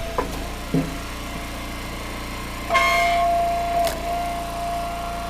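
A log splitter working bundle-grade silver maple gives off a squeak from a joint that needs grease: one sharp creak early on, then a longer squealing whine with steady tones over the engine's constant low drone.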